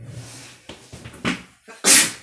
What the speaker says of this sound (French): Je me demande si c'est pas ma bougie qui me fait éternuer